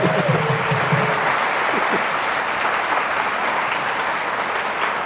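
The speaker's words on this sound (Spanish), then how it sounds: "Un aplauso a los ángeles de la guarda" Sustained audience applause in a hall during a religious talk, a steady, even wash of many hands clapping, with a brief voice at the start.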